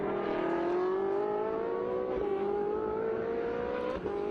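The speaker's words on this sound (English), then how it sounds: "The small bore production cars and some of the Lotus 23's early kind of sports" A vintage racing car, one of the small-bore production cars or early Lotus 23 sports racers, drones steadily at Circuit of the Americas, its engine note slowly rising in pitch, loud and sustained with no voices.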